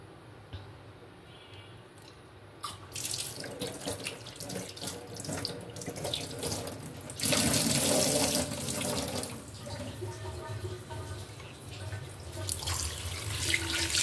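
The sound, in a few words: washing koi fish under running tap water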